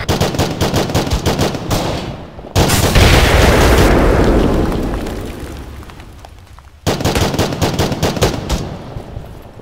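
Rapid gunfire bursts in ArmA 3 in Kunduz, Afghanistan, broken by a loud grenade blast that roars and slowly fades before the automatic fire resumes, close and intense.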